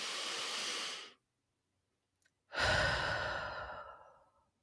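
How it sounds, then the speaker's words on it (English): A deep breath drawn in and then let out during a guided moment of calm, two broad airy rushes separated by a silent pause, close and soft with no talking. "take a deep breath."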